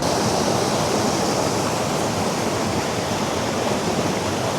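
A waterfall pours into a small pool below, a loud, dense, unbroken rush of falling water that fills the whole stretch evenly with no voices.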